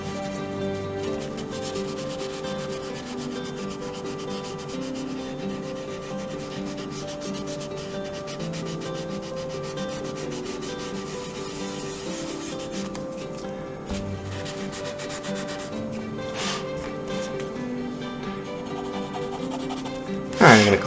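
Pencil or blending tool rubbing across paper, working shading from light to dark along a gradient scale; a steady, continuous close scratchy rub for about twenty seconds, with a brief louder scuff at the very end.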